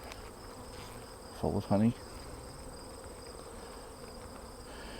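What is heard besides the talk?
honey bees buzzing in a hive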